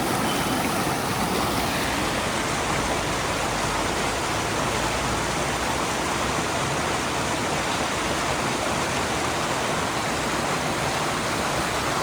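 Fresh mountain stream water rushes steadily near a Kashmir mountain pass, a loud, continuous broadband wash with no pauses throughout.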